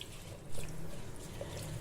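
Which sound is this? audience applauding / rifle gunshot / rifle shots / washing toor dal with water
washing toor dal with water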